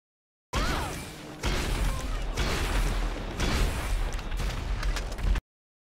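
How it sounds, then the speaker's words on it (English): A minigun firing in a video game, sustained harsh bursts of rapid fire with explosive crashes, loud and close, in long stretches separated by short breaks. "he's using a minigun"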